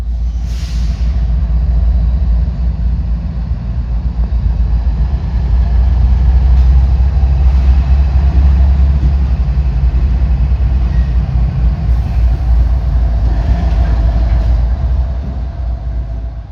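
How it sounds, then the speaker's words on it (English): A CSX freight train's diesel locomotives, a GE ES44AC among them, push back to couple onto a cut of cars. A loud, steady low engine rumble holds close by throughout, with faint metallic clanks above it. "I then moved to the other side of the tracks to watch them push back and hook up to the first cut of cars."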